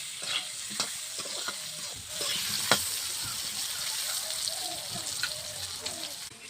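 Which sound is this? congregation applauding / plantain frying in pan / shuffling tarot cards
plantain frying in pan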